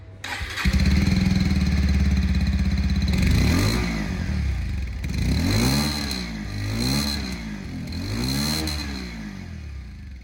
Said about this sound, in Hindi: इसकी जो एग्जॉस्ट साउंड है सबसे पहले ये सुना देता हूँ